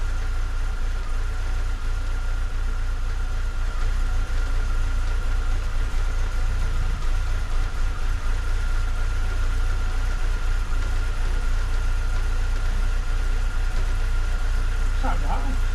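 A BMW Z3 engine idles with a steady, close low rumble and a faint constant whine, running evenly throughout while voices speak intermittently nearby.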